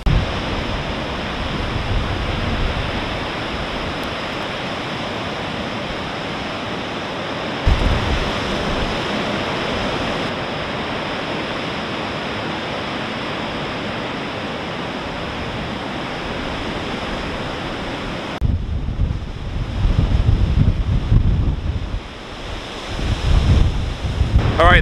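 Rough Niagara River waves surge beneath strong wind during a Halloween storm, a loud, continuous roar of surf and gusting air buffeting the microphone, swelling and easing at times.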